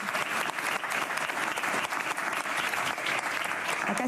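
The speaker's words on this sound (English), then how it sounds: "Like I said, we love the applause." Reporters and attendees at a press conference with the Danish prime minister break into applause, a loud, continuous, dense clatter of many hands that carries steadily without pause.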